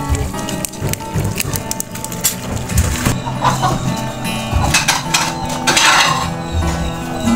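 Squid adobo is stirred in a pot, loud and close. A utensil clinks and scrapes against metal over a simmering, crackling bed of cooking sound, with some brief background voices.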